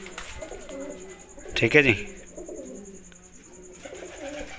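Punjabi Malwai pigeons coo softly in the background, with one louder burst of fluttering and calling partway through, while someone speaks briefly nearby.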